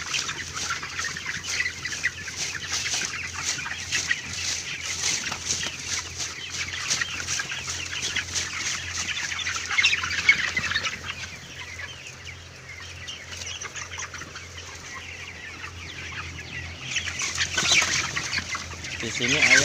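A dense chorus of chickens clucks nonstop in a crowded 40,000-bird poultry house, many birds at once over a low mechanical hum.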